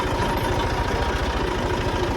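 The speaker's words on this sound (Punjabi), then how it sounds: "ਟਰੈਕਟਰ ਚਲਾਉਣ ਦੀ ਵਾਰੀ ਮੇਰੀ ਆ ਗਈ" A tractor engine idles nearby with a steady, loud, low rhythmic chugging that stays even throughout, with no voices over it.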